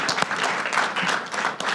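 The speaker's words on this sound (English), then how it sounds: "give them a little round of applause for being great" A brief, dense round of applause from the room at a student senate meeting, steady and fairly loud throughout its couple of seconds.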